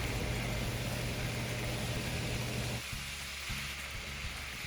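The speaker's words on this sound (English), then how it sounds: "I'm going to add 2 more tablespoons of vegetable oil, our onion whites, and the mushrooms, and we're going to let this cook down" Onion whites and mushrooms frying in vegetable oil in a pan, a steady dense sizzle that holds loud for a few seconds, then drops a little softer and continues evenly, with no voices over it.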